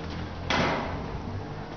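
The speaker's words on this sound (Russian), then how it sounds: "Решетка открывается. Решетка закрывается." A metal security grate at a hotel entrance in Portugal slides with one short, fairly quiet rattling clank, standing out briefly against low background noise.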